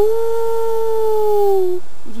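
A person imitates a wolf howl with one sustained, steady voiced tone that slowly falls in pitch near the end, loud and close, with no other sound.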